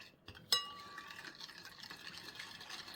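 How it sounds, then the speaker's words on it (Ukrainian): Green jelly powder stirred into a glass of hot water: one sharp glassy clink near the start, then soft continuous swirling and trickling liquid noise, close and fairly quiet. "розвожу його в гарячій склянці води"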